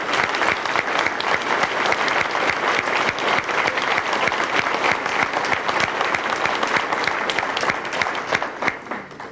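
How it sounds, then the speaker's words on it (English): An audience at a building dedication claps steadily for over nine seconds, a dense, even burst of many hands that tapers slightly at the end, heard without talk. "if you would join me in just applauding"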